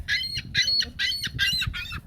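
Geese or similar fowl honk near a toddler feeding them, five loud close calls in a steady rhythm over low background rumble.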